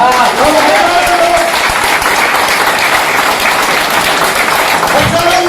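A room full of people at a business plan presentation in a banquet hall claps in sustained, dense applause, loud and steady from start to finish.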